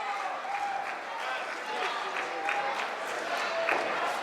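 Wrestling crowd at an ECPW event applauding and cheering steadily, moderately loud and continuous, with a commentator talking over it.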